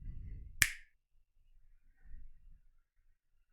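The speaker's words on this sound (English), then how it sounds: "All I got to do is snap my fingers, the jersey appears in the locker." A single crisp finger snap rings out sharply near the start, close and isolated, followed by near silence with only faint low rustling afterward.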